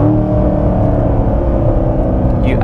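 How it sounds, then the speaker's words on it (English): A C7 Corvette Stingray engine revs steadily and loudly during a downshift, with a dense low rumble held close throughout and a brief higher whine near the end. "We're going to downshift. Listen."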